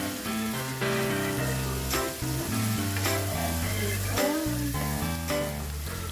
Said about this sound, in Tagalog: Idugang naton sa aton ginaprito nga bacon ang mga na-chop na nga ahos.